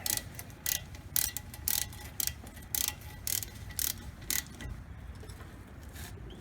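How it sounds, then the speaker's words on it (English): A ratchet tightens 14 mm brake caliper bolts during a front disc brake service, giving close, crisp bursts of rapid clicking repeated in short strokes with brief pauses between them and no talking. "get my ratchet over here to tighten them up as tight as we need to get them"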